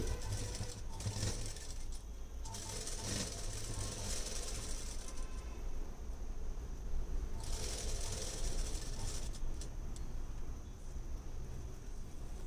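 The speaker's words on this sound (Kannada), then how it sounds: "ಇಲ್ಲಿ ನಾನು ಟೂ ಇಂಚಸ್ಗೆ ಏನು ಮಾಡ್ತೀನಿ ನೇರಕ್ಕೆ ಸ್ಟಿಚ್ಚನ್ನು ಹಾಕ್ಕೊಂಬರ್ತೀನಿ" A sewing machine runs steadily, stitching a straight side seam on a silk blouse, with a rapid mechanical whir that briefly pauses and restarts, close up and without talk.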